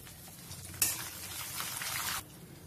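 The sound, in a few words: curry leaves frying in tempering oil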